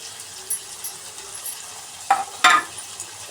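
Ginger paste and softened onions fry quietly in a pan for a village-style chicken curry, a faint steady sizzle broken by two sharp scrapes of a stirring spoon near the end.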